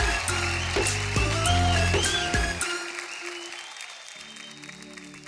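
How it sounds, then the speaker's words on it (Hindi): Audience applause at a stage event, a sustained patter of clapping from a crowd mixed with loud music that drops out midway, leaving the clapping under a fainter musical backdrop. "जोरदार ताली हो जाए"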